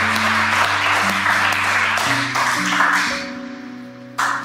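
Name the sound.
congregation applause for Jesus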